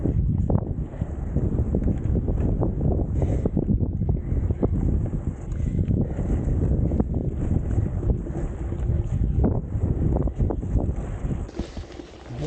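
Strong wind buffeting a microphone while riding a gravel bike, a constant roaring rumble with gusty surges, close and loud, with no talking.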